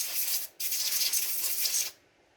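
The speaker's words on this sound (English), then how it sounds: "Really gonna blow the dust off that before I go taking it out." Two bursts of compressed air blown over the CPU of an IBM ThinkCentre M50 desktop being restored, each a loud broadband hiss, the first short and the second longer, with a brief gap between and no talk.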